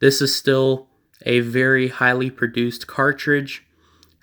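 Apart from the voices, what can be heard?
No distinct noise like a dog, phone or traffic.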